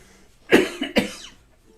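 Two sharp coughs close together, near and fairly loud, with a quiet pause before and after.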